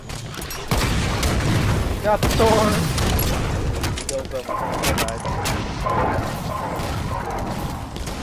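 Fuel rod cannon fire in a Halo match: repeated booming blasts and explosions in rapid succession over several seconds, loud and close, mixed with other gunfire while players talk over the action.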